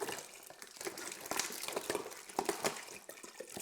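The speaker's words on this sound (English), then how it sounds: "this is the 2 liter bottle of water. So it's going to go in" Water from a 2 litre bottle is poured into a pot for banana wine, a close, quiet gurgling and splashing stream with bubbly glugs and light crinkles from the plastic bottle.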